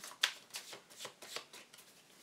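A deck of oracle cards riffled and shuffled by hand, a quick series of soft, close papery flutters and taps.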